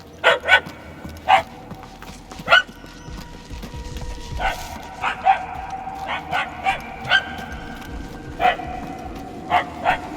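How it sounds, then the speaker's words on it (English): Dog barking in the Guardians of the Galaxy video game, repeated sharp yips and barks at an uneven rhythm, moderately loud over a low background ambience, with no speech. "The barks are getting louder, at least."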